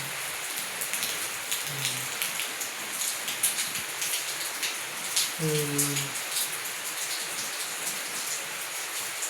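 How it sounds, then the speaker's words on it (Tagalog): Steady rain pours down on a cold, windy morning, a dense, even hiss of drops on surfaces that continues throughout, with a couple of faint low tones rising briefly beneath it. "Umuulan lang."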